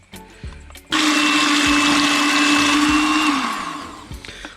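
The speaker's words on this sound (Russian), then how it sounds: "Вот такой вот у меня миксер." An electric hand mixer whirs loudly as it crushes grapes for homemade wine, starting abruptly after a soft bump, running as a steady high-pitched grinding drone for a few seconds and then winding down.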